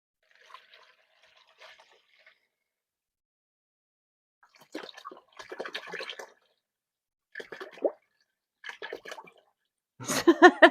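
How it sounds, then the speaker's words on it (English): Water splashes and sloshes into a bowl being filled, arriving in short irregular bursts separated by near silence, and growing louder and fuller toward the end. "Water splashing up and flicking me in the face"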